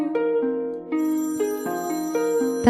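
A telephone ringtone plays loud and close, a repeating electronic melody of stepped tones with no talk.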